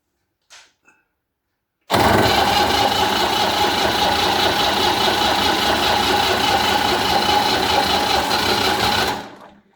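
A Massey Ferguson 35x diesel tractor engine, just fitted with new injectors, turns over briefly, then fires and runs loud and steady for several seconds before cutting out abruptly.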